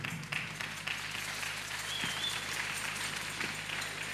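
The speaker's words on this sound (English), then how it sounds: "Applaudissons pour le Seigneur." An audience at a church service applauds with steady, dense clapping for several seconds, fairly close and continuous with a few sharper claps standing out.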